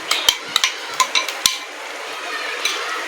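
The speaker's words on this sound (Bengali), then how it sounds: "ভালো করে নেড়ে ভেজে নেব" Chicken chap masala with yogurt being stirred and fried in a pan, a spatula giving several sharp scraping clacks against the metal over a steady low sizzle, close and fairly quiet, with no talk.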